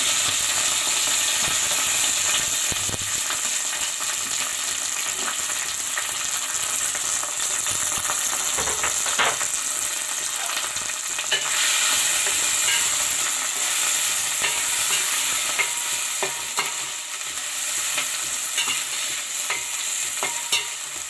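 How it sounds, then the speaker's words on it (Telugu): Curry leaves and onions fry in a pan, a loud, steady sizzle up close with the scrape and clatter of stirring running through it, and no talking. "ముందు కరివేపాకు, ఉల్లిపాయలు కూడా వేసేస్తాను."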